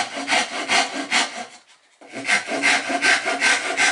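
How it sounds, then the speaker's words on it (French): Handsaw cutting wood to trim the keel of a toy boat (Berckois model), steady back-and-forth rasping strokes, close and loud, with a brief pause midway before sawing resumes. "Je vais donc faire quelques traits de scie."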